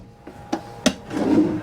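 A drawer in the pantry of a 21ft aluminium-framed caravan slides and knocks, with a few sharp wooden clacks and then a short rubbing slide, close and alone.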